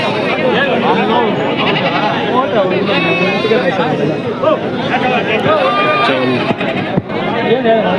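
Several goats and sheep, including long-eared goats, bleat repeatedly over busy crowd chatter, close and loud, in a large weekly sheep market in Bangarupeta.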